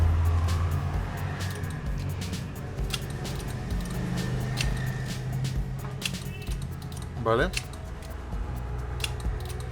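Car electric door lock actuators, wired to relays and a switch, clack repeatedly in quick bursts, close and fairly sharp, amid a man's occasional speech and background hum.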